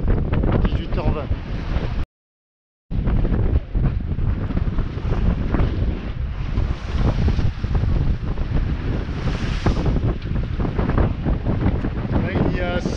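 Strong wind of 16-17 knots roars and buffets the microphone over rushing, well-formed sea at night, loud and continuous, with a brief silent gap near the start.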